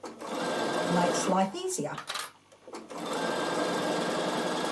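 A Bernina sewing machine hums steadily at a quiet, even pace, stitching bias piping, pausing briefly while a voice speaks, then resuming its continuous stitching drone.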